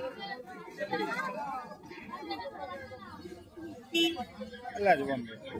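Cooing from a male Madras high-flying pigeon at a busy street pigeon market, heard in short soft bursts beneath steady nearby chatter and talk.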